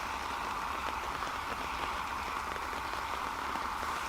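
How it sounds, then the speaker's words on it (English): Rain patters steadily on an umbrella at Dublin Airport during plane spotting, a dense, even, close drumming hiss with no voices. "Rain has started again, as you can probably hear, hitting the umbrella."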